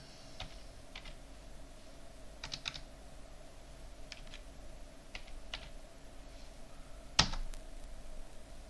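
Typing on a computer keyboard while entering terminal commands during a Manjaro Linux setup: sparse, irregular clicks of individual keys, close and quiet, ending with one sharper louder keystroke.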